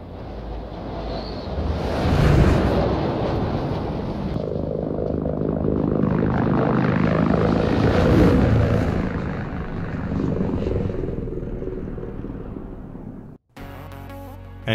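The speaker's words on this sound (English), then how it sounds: "Flyby sounds on ships sound very different, big improvement on that." Spaceship flyby in Star Citizen, a loud rushing roar that swells and sweeps past over several seconds, then cuts off abruptly.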